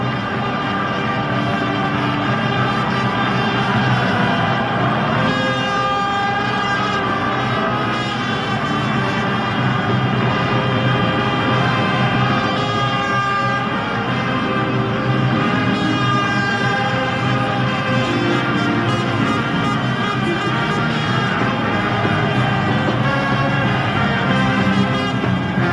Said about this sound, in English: There are several hundred or several thousand little plastic bugles